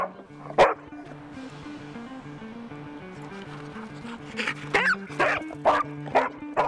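A disaster search and rescue dog lets out one sharp bark early, then a burst of loud, repeated barks and yips near the end, over a steady tonal musical bed.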